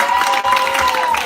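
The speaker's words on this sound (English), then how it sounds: "Let's clap for Scotty one more time." An audience at a worship marathon bursts into sustained applause for Scotty, a dense, steady wash of clapping with a few voices mixed in.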